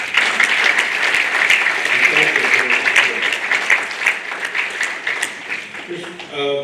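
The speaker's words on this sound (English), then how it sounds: "please give the parents a round of applause" Sustained audience applause at the Edison Academy Magnet School class of 2024 graduation, honouring the parents. Dense clapping holds steady, then thins and fades toward the end, with a voice speaking faintly over it.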